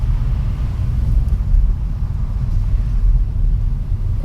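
Low, steady thrum from the 3-cylinder engine of a 2023 Kia Stonic heard from inside the cabin with the window open, a continuous droning rumble at moderate volume with no speech.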